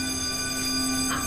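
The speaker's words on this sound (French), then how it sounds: "l'esprit frappeur d'Aleister Crowley s'est ligué avec l'alarme anti-incendie" An indoor fire alarm goes off during a paranormal evening event. It gives a loud, continuous electronic tone with steady buzzing harmonics that holds unchanged throughout, with no voices.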